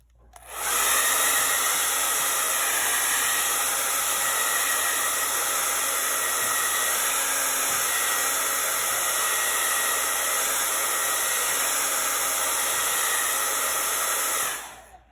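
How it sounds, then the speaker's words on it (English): A hair dryer blows steadily for about fourteen seconds, drying paint on a gnome figure; a loud, even whooshing hiss close to the mic that starts and stops abruptly, with no voices. "I'm gonna blow him dry just to make sure where I started is dry"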